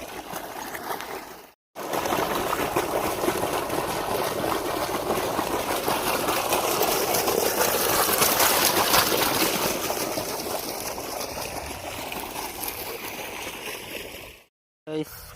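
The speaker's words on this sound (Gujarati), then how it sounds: "પાણી આવી ગયું છે એડાના ચામાં।" Irrigation water on a farm flows into a field channel with a steady, close rushing hiss that swells slightly midway and breaks off briefly at the start and the end.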